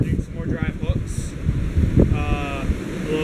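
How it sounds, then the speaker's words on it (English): Gusty wind buffets the microphone with low rumbling bursts while a person talks over it. "sorry about the wind"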